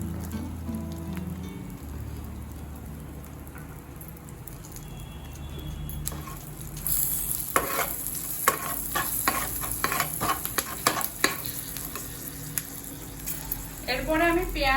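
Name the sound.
green chillies and cumin frying in oil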